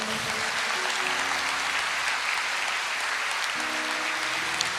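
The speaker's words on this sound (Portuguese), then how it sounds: "Aplauda o Senhor." A church congregation applauding, continuous loud dense clapping from a large crowd in the sanctuary, steady throughout with no talking over it.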